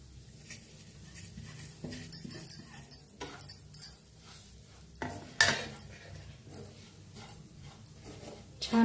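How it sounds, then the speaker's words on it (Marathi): Ground peanuts and sesame are stirred into a bitter gourd dish in a metal pan, with scraping and clinks of a spoon against the vessel in uneven bursts, fairly close, no voices. "छान असं मिक्स करूया"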